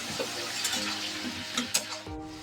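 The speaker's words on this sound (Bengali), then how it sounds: "এবার নাড়াচাড়া করি" Ground red chilli, cumin and coriander powders being stirred in a pan for a rohu fish curry with cauliflower, with soft scraping strokes and a light sizzle running throughout and a few sharper clinks near the end.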